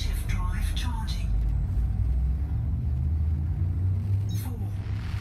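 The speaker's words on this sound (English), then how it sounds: "Frameshift drive charging." In the Elite Dangerous space game, a ship's frame shift drive charges with a steady, deep rumbling drone that builds and holds, while a voice talks briefly at the start and end.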